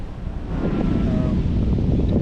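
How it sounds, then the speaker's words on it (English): Strong wind roars across the microphone in a steady low rumble, with a faint wash of surf underneath. "Really windy today."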